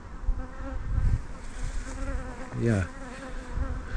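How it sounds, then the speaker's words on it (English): A dense, steady buzzing of many honeybees around a swarm fills the air close by, with a brief spoken word partway through. "I'll just bang them last few bees down here, and then they should all settle down here"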